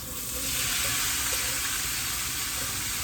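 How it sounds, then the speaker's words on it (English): Chopped onions, bell pepper and green onion sizzle loudly in a pot, a continuous bright crackling hiss that stays steady throughout. "Ooh, listen to that sizzle."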